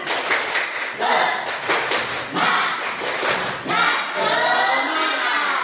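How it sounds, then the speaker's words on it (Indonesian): A classroom of students doing a rhythmic spirit clap together, with bursts of group clapping in a patterned beat and voices chanting along, loud and close. "Tepuk semangat."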